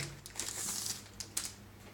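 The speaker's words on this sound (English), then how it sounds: "the tablet itself comes in a plastic bag" A plastic bag around a Lenovo Tab 4 8 Plus tablet crinkles faintly during unboxing, with soft rustles and a couple of sharper crackles over a low hum.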